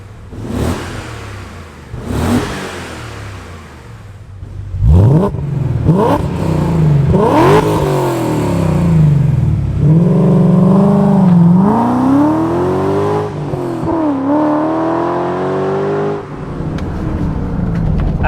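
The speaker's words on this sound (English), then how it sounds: "it sounds really good. So it's got the low V8 rumbly noise at the bottom end" A BMW Z8's V8 engine with Supersprint headers and full exhaust revs hard while driving, deep exhaust rumble rising and falling through several loud pulls, with rising pitch on each acceleration.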